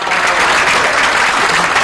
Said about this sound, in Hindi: आपकी भरपूर तालियों में तशरीफ लाते हैं जनाब अब्दुल हकीम नासिफ।